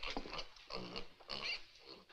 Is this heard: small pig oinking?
yes